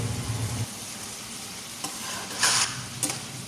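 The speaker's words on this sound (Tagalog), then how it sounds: "Tuloy-tuloy lang yung paghalo at malapit na siyang maluto." Tofu and water spinach frying in a pan while being stirred continuously, a soft steady sizzle with a few sharper scraping clatters of the spatula near the end.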